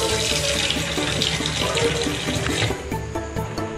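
Tap water runs steadily into a sink for a beagle to drink, a loud close splashing stream that eases and thins near the end.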